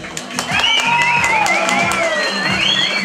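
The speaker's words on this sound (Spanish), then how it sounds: "A ver, fuerte, fuerte las palmas para José Cisneros, que suene." Audience at a live music show cheers and claps for a singer, with whoops and shouts over steady clapping, loud and close, sustained throughout.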